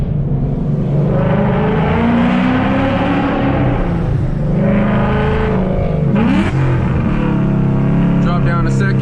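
A Ford Mustang GT with a drag setup accelerates hard on a pull, heard from inside the car: a loud, close engine roar climbs through the revs, drops at a shift and climbs again.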